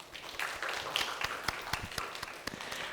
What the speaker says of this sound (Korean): 우리 한올 가족들 위해서 박수 한번 더 크게